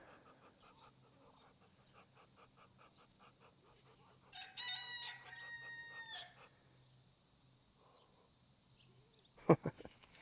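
A farm rooster crows faintly in the distance among other bird calls, followed by a closer, louder burst of clucking and calls near the end, with a steady low background hum.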